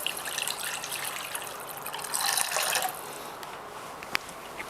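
Pork stock pours steadily into a pot, swelling louder for a second midway, then continuing softly with a faint clink near the end.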